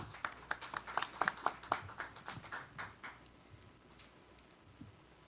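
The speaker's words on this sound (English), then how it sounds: "let's give Claudia a round of applause" Audience applause for Claudia Rodriguez, co-owner of a furniture business, at a morning business event: a burst of scattered hand claps that thins out and fades over a few seconds before quiet.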